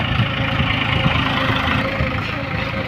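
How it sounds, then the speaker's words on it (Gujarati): A tractor engine drones steadily and loudly at an even idle on a farm, with a blade implement attached: a low rumbling hum with no breaks throughout. "તો જોઈ શકો આ રીતે ટ્રેક્ટર હલાવ્યો છે"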